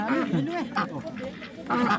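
Ducks quack close by in short, irregular calls while a voice talks over them during a Hmong New Year gathering.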